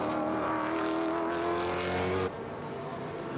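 A GT1 race car at Donington Park in qualifying powers out of the final corner and across the line, its engine a loud, steady high-revving roar that drops abruptly in pitch and level partway through.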